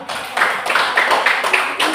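A classroom group claps for another group after its presentation, making a short run of fairly even, rhythmic bursts that sound close by.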